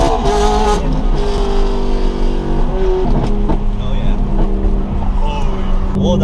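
A Ferrari engine accelerating at half throttle, a loud, close, continuous roar with rising tone heard from inside the car while people talk over it.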